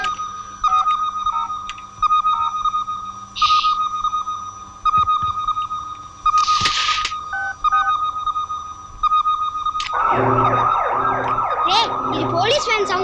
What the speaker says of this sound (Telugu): ఇది పోలీస్ వ్యాన్ సౌండ్ రా, కాదు ఫైర్ ఇంజిన్ సౌండ్